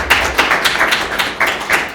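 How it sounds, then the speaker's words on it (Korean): A small audience claps irregularly in a lecture hall to welcome a speaker at a mathematics colloquium, close and brief, without cheering. "박수로 맞아주세요"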